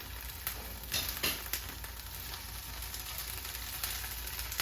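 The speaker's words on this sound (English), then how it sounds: "I'm adding some avocado oil to my cast iron skillet to quickly fry up the asparagus heads" Asparagus heads frying in avocado oil in a cast iron skillet, giving a steady, close sizzle with a few louder crackles and spits.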